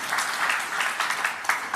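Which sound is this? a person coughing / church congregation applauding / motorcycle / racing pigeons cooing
church congregation applauding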